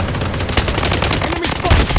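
Rapid automatic gunfire crackles through a first-person shooter match in Blood Strike on the Shutter Island map, a dense, loud volley of bursts over the game's background noise.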